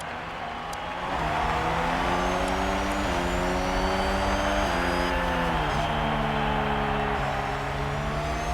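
Formula One cars in F1 Manager 22 at the Austrian Grand Prix start, engines swelling after a quiet moment into a loud sustained roar with stepped upshifts repeating as the field accelerates away.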